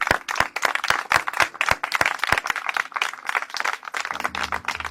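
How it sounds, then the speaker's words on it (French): An audience at a gathering supporting a woman named Sophie bursts into brisk, dense clapping, loud and close, with no talk over it. "on peut tous vous applaudir"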